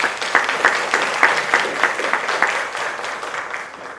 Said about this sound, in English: We're going to have one more round of applause for our esteemed panel of judges.